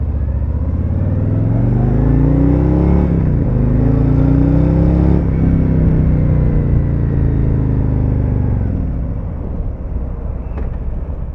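A custom 2021 Harley-Davidson Road Glide Special motorcycle pulls away and accelerates on a Los Angeles street. The loud, close, deep V-twin rumble rises in pitch through gear changes, then eases off near the end.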